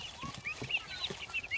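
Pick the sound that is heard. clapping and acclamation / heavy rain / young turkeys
young turkeys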